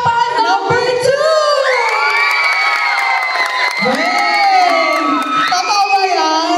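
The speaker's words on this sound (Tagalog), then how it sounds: "Kaya palakpakan nyo po yung bet nyo, ha?" A fiesta variety show crowd in Manila cheers, whoops and shrieks loudly for a contestant, children's high voices rising above the steady roar of the audience throughout.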